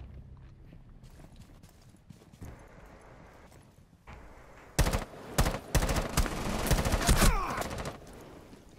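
Gunfire in the tactical shooter Rainbow Six Siege: after a quieter stretch, a loud cluster of sharp bursts and single shots, with rapid automatic fire and crashing impacts, sits close and dense in the second half.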